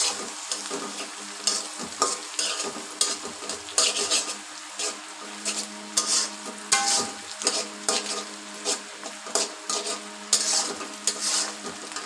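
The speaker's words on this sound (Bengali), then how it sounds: "তো ডিমটা কিন্তু ভালো করে ভেজে নিতে হবে বন্ধুরা" Eggs frying in a pan for a snake gourd and egg stir-fry, with a steady close sizzle and frequent scraping, stirring strokes and light clinks of a utensil against the pan, no voices.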